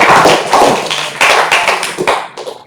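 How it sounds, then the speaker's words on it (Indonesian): Students clapping in a classroom, a short burst of sharp, close handclaps with uneven rhythm that thins out and fades toward the end. "Tepuk tangan untuk kalian semua."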